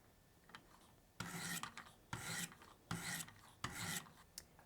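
A knife edge is drawn across a sharpening stone in four long, steady rasping strokes, close and fairly quiet, with short pauses between strokes and no voices.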